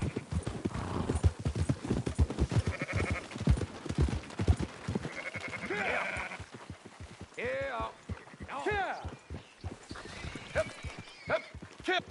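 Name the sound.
sheep bleating in video game Red Dead Redemption 2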